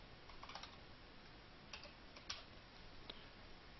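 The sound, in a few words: typing a company name on a computer keyboard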